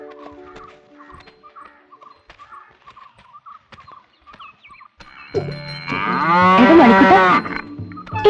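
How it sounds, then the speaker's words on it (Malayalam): A cow lets out one loud, long, close moo that swells and then fades, after quieter scattered farmyard noises. "ദേ പശുവിനെ ചോട്ടിക്കാൻ ആള് വന്നു"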